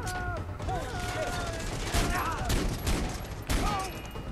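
Gunfire in the video game Far Cry 3: a dense, rapid fusillade of shots mixed with mechanical clatter and other busy game sounds, loud and continuous across the moment.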